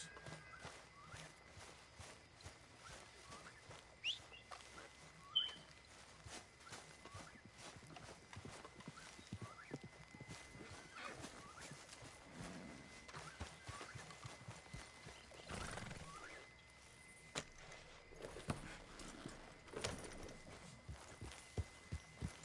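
Faint hoofbeats of a horse clip-clopping along at a walk in Red Dead Redemption 2, with occasional soft snorts, quiet and somewhat distant.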